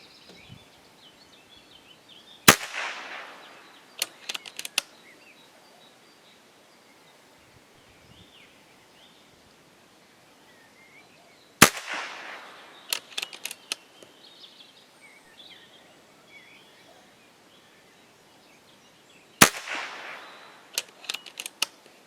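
Three sharp shots from a Kral Arms Puncher Mega PCP air rifle charged to about 185 bar, spaced several seconds apart, each a loud crack followed by a few fainter clicks and rattles of handling outdoors.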